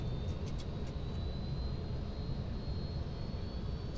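A Boeing 737-200 jet on landing approach to the Meadowbank dirt strip, a loud steady engine roar with a thin high whine running through it, constant from start to end.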